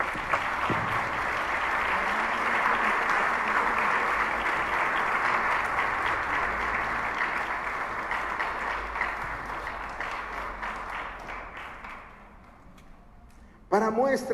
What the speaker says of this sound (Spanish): Denle un aplauso a Él, por favor.